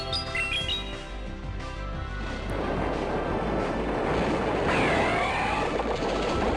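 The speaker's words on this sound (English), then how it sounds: "But we do have the Earthquake at the ready. We'll go ahead and fire that their way." Earthquake attack effect in a Pokémon GO battle: a deep rumbling roar that swells and sustains, loud and dense, following a brief stretch of game music.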